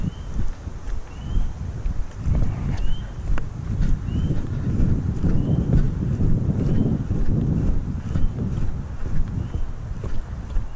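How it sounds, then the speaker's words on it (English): Steady wind buffeting microphones on a hike through the Médoc, a continuous loud low roar with gusty rustle lasting throughout, no talking. "Just going to keep quiet a minute while this wind comes by"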